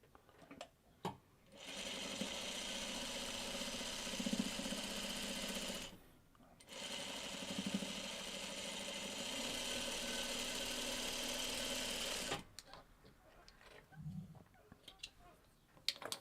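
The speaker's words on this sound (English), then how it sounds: "Now we sew the two halves together." A sewing machine stitches two quilt block halves together for a basket block, running in two long steady bursts separated by a short pause, close and fairly loud, with only light handling noise after it stops.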